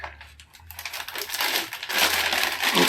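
Crinkling and crushing of a plastic zipper bag being handled and pulled open, a steady rustle building louder toward the end, close and alone with no talk.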